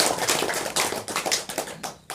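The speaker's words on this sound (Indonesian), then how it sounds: "Tepuk tangan ya." Hands clapping at a temple gathering, a loose burst of close claps with uneven rhythm that thins out and ends with a few scattered claps.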